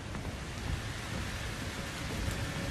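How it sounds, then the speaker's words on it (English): Steady rain in the horror video game Outlast 2, a continuous hissing downpour with low rumbling beneath, fairly quiet and even throughout with no talking. "It's raining."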